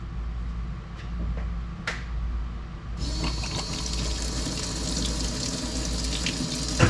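Fuel sprays out of an open line with a sudden loud hiss as the fuel pump on an old Porsche car runs, a steady close rushing spray that continues after a few earlier clicks.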